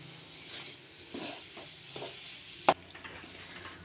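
Sesame til buga dough being stirred and roasted in a kadai, a soft sizzle with scraping stirs and one sharp clack of the spoon against the pan, close and fairly quiet.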